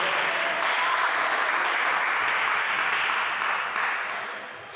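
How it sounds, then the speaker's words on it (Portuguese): A church congregation claps during an evangelical sermon, producing a dense, even roar of applause that holds steady for several seconds before easing slightly at the end. "pode bater as palmas para Jesus"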